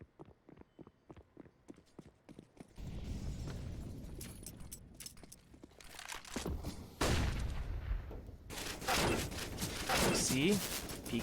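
Gunfire rattles in a Counter-Strike match, with loud bursts of rapid automatic fire following a run of quick footsteps, while a commentator talks over the action.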